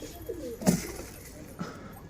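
A pigeon gives a soft, low coo, then another faint one a moment later, in a quiet setting.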